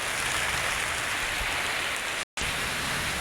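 Heavy rain pours down with gusting wind just before a storm, a loud, unbroken hiss that cuts out for an instant before resuming.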